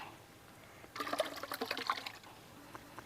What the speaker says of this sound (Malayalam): പുളി വെള്ളമൊക്കെ കലക്കി മസാലയൊക്കെ മിസ്സാക്കി വെച്ചിരുന്നല്ലോ അത് നമുക്ക് ഇതിലേക്ക് ഒഴിച്ചു കൊടുക്കാം